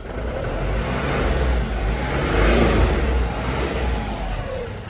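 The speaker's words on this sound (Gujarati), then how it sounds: "આનો રેસ પણ દઈને તમને બતાવીએ." A complete Ashok Leyland Bada Dost light truck in original showroom condition, engine revving steadily and loudly up close for about five seconds, rising to a peak near the middle with a continuous mid-range drone.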